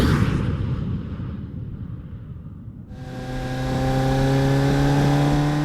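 A Fiat X1/9 sports car pulls away in a louder rumbling rush, then its engine settles into a steady, close, droning cruise with clear tonal hum.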